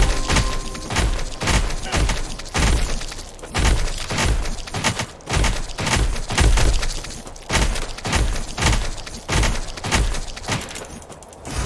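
Grenades go off one after another in a roguelite survival game, a loud rapid series of sharp blasts and crashing bursts in an uneven rhythm, with no voices.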